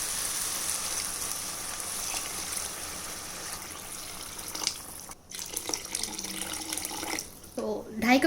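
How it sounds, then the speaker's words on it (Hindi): Water is poured into a pot of soaked rice for Hyderabadi tandoori chicken tikka biryani, making a continuous close splashing and trickling. It swells briefly near the end. "पानी डाल देते हैं।"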